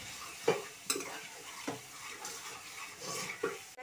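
Turmeric and red chilli powder stir-fried in a pan for egg curry, a spoon scraping and clanking against the metal in repeated strokes over a soft, steady sizzle, close by with no talking.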